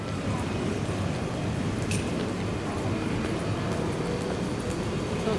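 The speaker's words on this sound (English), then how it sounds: "You can see up above us is the internal railway, taking it from terminal gate to gate. Here comes the train now." A steady, broad rumble of an airport's internal terminal train at Doha airport passing overhead, even and continuous with no distinct breaks, heard from close by.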